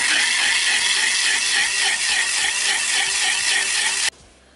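A kitchen blender grinds pomegranate seeds with a little milk for juice, a loud, steady whirring roar for about four seconds that cuts off abruptly, leaving a quiet room.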